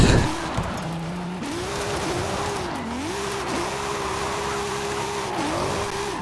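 A Toyota Supra with a widebody kit in Forza Horizon 5 holds a loud, steady engine drone. The revs rise and dip as it shifts through gears, with faint tire noise underneath.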